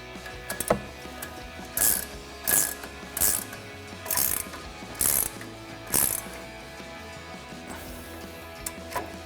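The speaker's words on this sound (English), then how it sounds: "we're gonna grab a 19mm ratcheting wrench to tighten that down" A 19mm ratcheting wrench tightens a nut on a Toyota Tacoma strut during a leveling strut extension install, sounding as a series of about seven short bursts of rapid ratchet clicks, close and distinct with pauses between strokes.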